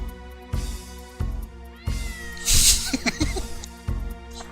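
Cat meowing repeatedly in the Dark Cloud video game, several clear mid-loud meows over a sustained background music bed, one call rising into a longer caterwaul near the middle.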